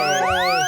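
An emergency siren wails in overlapping, rising and falling tones, loud and close, heard only briefly.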